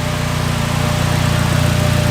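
Turbocharged Mitsubishi Lancer engine idling steadily in a garage, a loud, continuous low rumble with a fine, even pulsing throb.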